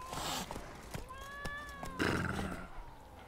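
A horse in the video game Elder Scrolls Online whinnies in a short, wavering call with a falling pitch, heard up close over a busy game soundscape.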